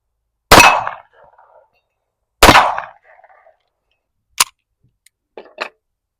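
Two loud, close pistol shots from a Rock Island 1911 fired at targets, each trailing off into a short echo, followed by a few lighter metallic clicks and clacks of handling.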